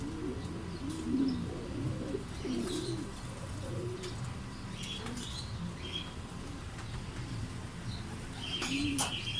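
Racing pigeons coo during training, with low throaty calls recurring in short bursts, occasional wing flaps and brief chirps over a steady outdoor background, and no talking.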